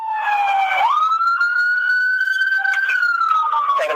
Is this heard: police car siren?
yes